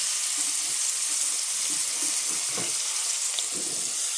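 Blackened salmon sizzles steadily in a hot pan, a loud, even hiss with faint crackling and popping running throughout.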